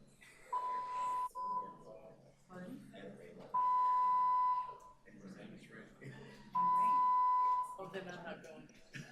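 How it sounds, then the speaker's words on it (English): A fire alarm in a committee meeting room sounds three long, loud, steady electronic tones, evenly spaced, with people talking underneath and between the bursts. "this is a fire alarm, and there will be an announcement."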